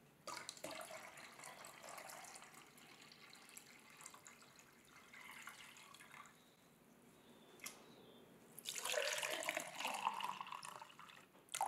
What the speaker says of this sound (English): here's just a quick demonstration of how these two shapes pour.